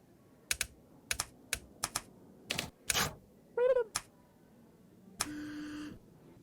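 Keys clacking in a humorous typing video game, a handful of separate sharp taps and short bursts spaced irregularly, close and fairly quiet, mixed with brief tonal game sound effects, including a rising chirp and a sustained buzzing tone near the end.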